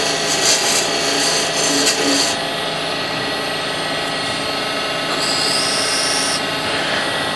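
A woodturning scraper is sharpened on a grinder, giving a loud continuous whirring rasp with brief harsher bursts as the steel edge is pressed against the wheel, alone without talk.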